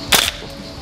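One sharp airsoft shot from an HK416 A5 VFC rifle firing a 0.20 g King Arms BB, a single close crisp crack that dies away fast into quiet room tone.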